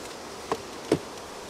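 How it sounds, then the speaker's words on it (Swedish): Bees around beehives being opened by beekeepers at a honey farm, two brief close buzzing passes of single insects flying by over a faint outdoor background. "Jag kan säga att det vimlar faktiskt med bin här runt omkring nu."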